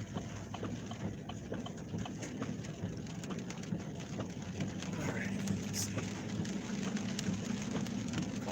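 Steady heavy rain hisses continuously during a thunderstorm in southern Iowa, with a low rumbling background. The rain sounds close and sustained, and there is no clear distinct thunderclap.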